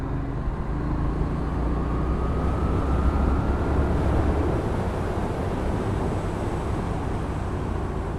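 A Brixton Cromwell 1200 motorcycle runs hard at full throttle, a steady, loud engine roar mixed with wind rush that holds without a break.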